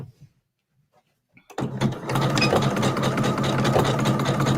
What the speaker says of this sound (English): we're going to jump back on the machine. I'm going to do a quick back stitch of where I was